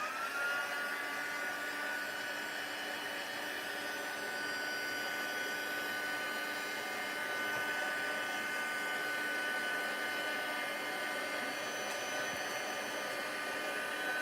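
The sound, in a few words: heat gun running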